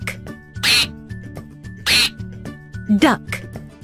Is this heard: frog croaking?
no